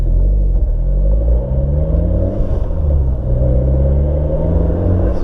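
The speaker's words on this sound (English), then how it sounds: "this is the noise you get to hear when you're taking off from a stop and you give it too much gas at low revs" A 2015-era MK7 Golf R fitted with a Southbend Stage 3 clutch pulls away from a stop at low revs, giving a deep, close droning rumble with a faint underlying rattle that swells as throttle rises.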